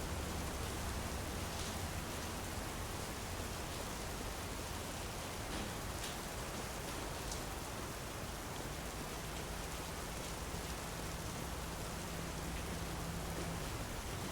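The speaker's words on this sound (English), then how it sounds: "Tell you what, that rain is loud." Heavy rain falls steadily in the video game Big Ambitions, a dense, loud, unbroken hiss of downpour with no voices over it.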